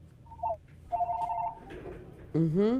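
A telephone rings in two short warbling bursts, followed by a person starting to speak close by.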